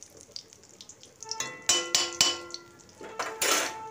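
Whole cinnamon, two cloves and a cracked small cardamom frying in hot oil in a pan for a Bengali chicken stew, giving sharp crackles and pops that grow louder in bursts, with light metallic clinks of utensil on pan.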